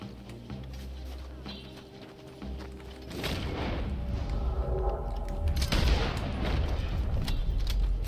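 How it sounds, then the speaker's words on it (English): Explosions in the online shooter game Red Dead Redemption 2 Online: two heavy booming blasts a few seconds apart, each followed by a rumbling roll. The second is louder and longer. "Explosion."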